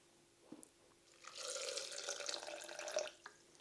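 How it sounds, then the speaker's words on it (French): Filtered water pours into a small bowl, a soft close splashing stream lasting about two seconds after a couple of faint clinks, quiet overall. "On va rajouter de l'eau filtrée"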